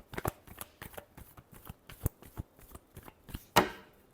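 A deck of tarot cards is shuffled with quick, crisp riffles and taps in an irregular rhythm, close and fairly quiet, ending in one sharper snap.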